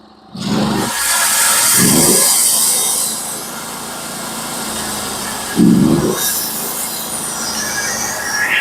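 A sawmill makes a half-inch skim cut through a spruce log: a loud, continuous high-pitched cutting whine runs throughout, with a few heavy low thumps near the start and again toward the end.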